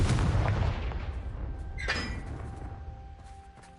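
A Confringo spell from Hogwarts Legacy goes off with a heavy booming blast that rolls out and fades over a few seconds, followed by a brief crackling burst, no voices.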